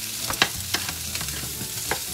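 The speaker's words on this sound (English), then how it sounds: "And then I'm just gonna stir it." Shrimp fried rice with mixed vegetables being stirred in a pan, a spatula scraping and tapping in several quick strokes over a soft continuous sizzle.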